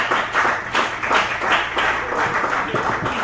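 Church congregation applauding together, a sustained wash of many hands clapping at moderate loudness with an uneven pulsing rhythm throughout.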